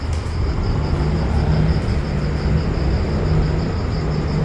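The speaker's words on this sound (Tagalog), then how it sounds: "Narinig niyo naman yung ingay ng mga sasakyan maaga pa kasi." Steady broadband rumble of traffic on a nearby highway outside an abandoned plant, a continuous wash of passing vehicles with faint engine drone and no voices.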